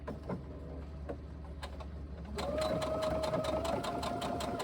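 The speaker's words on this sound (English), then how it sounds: "I usually sew from the inside and sew all the way around" A sewing machine stitches a tote bag seam, a faint steady whir that jumps to a louder, continuous running hum with a rapid needle rhythm partway through, close by.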